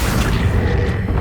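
An Accio spell cast in Hogwarts Legacy gives a dense, loud booming whoosh that fills the whole moment, a heavy magical rumble with no voices over it.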